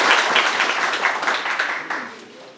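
Crowd applause at an outdoor gathering on Kiabonyoru grounds, where a speaker introduces local officials. The clapping is dense and steady and lasts a few seconds, fading slightly toward the end with no voices over it.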